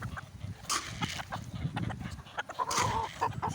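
Chickens cluck in a busy outdoor mix, short repeated calls near and far over steady background noise, with no talking.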